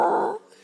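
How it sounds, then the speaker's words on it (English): A playful dog lets out a single short growl, close and fairly loud, that cuts off abruptly and leaves only faint background noise. "How I play with my dog."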